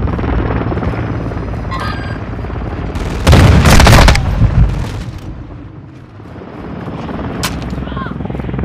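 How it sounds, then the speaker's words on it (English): Helicopter in Call of Duty Modern Warfare 2 multiplayer, a steady rotor drone throughout with a loud burst of chopping gunfire-like blasts in the middle, then the hum fading and returning. "Friendly Overwatch helo entering the AO."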